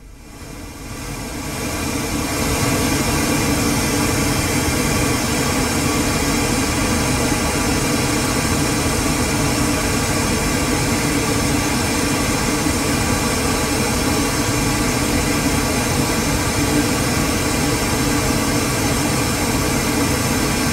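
Pink noise played through the factory Bose audio system of an Audi Q7 4M, a loud, steady broadband hiss that fades in over the first two seconds and then holds constant.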